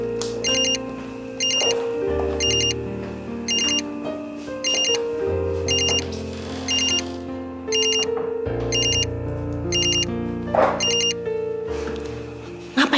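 A telephone rings as a looping electronic ringtone, repeated bright bursts over a melodic backing that plays steadily for several seconds at moderate loudness, with no talk over it.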